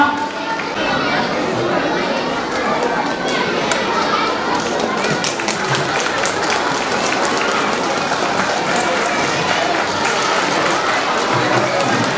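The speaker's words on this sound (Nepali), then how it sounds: "विद्यार्थी भाइ बहिनीहरू ताली बजाउने।" Students clap at a school parents day in Dulegaunda. A crowd's applause holds steady for about twelve seconds, with chatter and voices mixed in.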